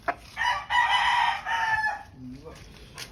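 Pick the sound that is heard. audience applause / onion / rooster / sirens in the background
rooster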